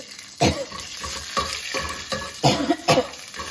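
Fennel seeds, cumin seeds and green chili sautéing in a pan make a close sizzle with several sharp scrapes and stirring strokes at uneven intervals, moderately loud and without speech.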